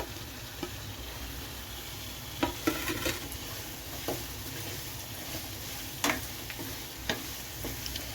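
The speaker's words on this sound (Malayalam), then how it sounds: "ഇനി നമ്മൾ അരിഞ്ഞു വെച്ചിരിക്കുന്ന സവോള പച്ചമുളകും കൂടി ചേർത്ത് കൊടുക്കുവാണ്" Chopped onions and green chilies frying in a pan for Kottayam-style duck curry, a soft steady sizzle broken by a few sharp spoon clicks and stirs, fairly quiet and close, with no voices.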